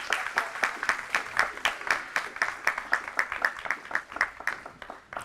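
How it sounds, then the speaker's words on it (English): A small audience claps for school board members at a district board meeting, producing distinct, evenly paced claps that stay quiet and fade toward the end. "Audience, let's give our board members a round of applause for their support of our students' athletic"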